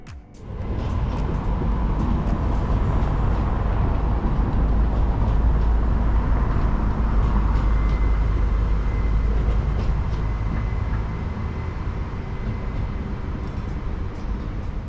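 An ÖBB Railjet passenger train runs from Bologna toward Munich, its steady low rumble and rolling rail noise continuous and fairly loud throughout, with faint higher squeals riding over the drone.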